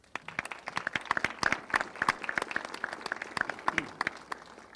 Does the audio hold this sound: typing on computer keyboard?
no